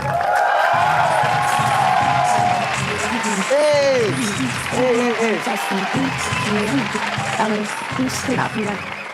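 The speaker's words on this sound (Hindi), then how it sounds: "तो प्लीज और जोरदार तालियों से स्वागत किया जाए" An audience at a comedy roast show claps loudly at the start, with a host's voice heard over the applause. The clapping then fades out and talk carries on alone.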